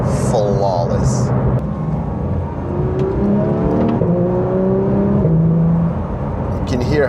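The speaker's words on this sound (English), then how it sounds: "You can hear how crisp those shifts are" A Porsche 911 GT3 RS accelerating hard, its engine note climbing through several quick, crisp dual-clutch upshifts, heard from inside the car with a voice talking over it throughout.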